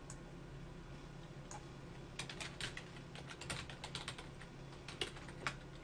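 Java code typed on a computer keyboard, quiet irregular key clicks in short bursts that grow busier midway, close and faint with no voices.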